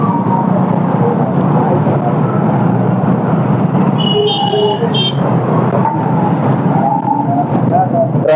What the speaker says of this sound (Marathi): फुल ट्रॅफिक आहे. जायला सुद्धा रस्ता नाही